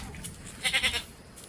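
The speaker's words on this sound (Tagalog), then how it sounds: "Nagbuhol na ang kambing." Goats bleat on a farm in a quick run of three or four wavering calls, close and fairly loud, over a quiet outdoor background.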